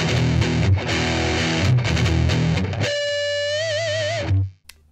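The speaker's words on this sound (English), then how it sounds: "Add a little distortion and wiggle the string with my left hand, we've got some pretty interesting sounds." An electric guitar string played through distortion, first as a dense, loud buzzing chord passage, then one sustained distorted note wobbled in pitch by left-hand string wiggling before it cuts off abruptly.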